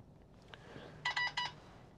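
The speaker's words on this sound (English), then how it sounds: "the system beeped" Short electronic beeps from the Apple CarPlay infotainment system in a 2018 Skoda Fabia, a quick cluster of three bright tones after a softer chime, heard alone inside the quiet car.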